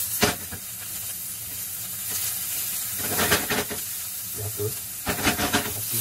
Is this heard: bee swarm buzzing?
no